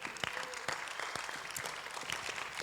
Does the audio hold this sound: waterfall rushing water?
no